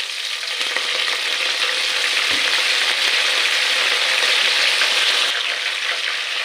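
Coriander and mint fry in a mutton curry with a steady, bright hiss and sizzle, close and continuous, with faint stirring scrapes underneath.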